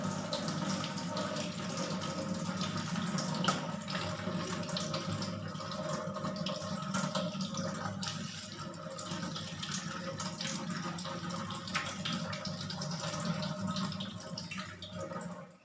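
Okra is rinsed under a running kitchen tap, a steady close hiss and splash of water hitting the sink that continues without a break, with no one talking.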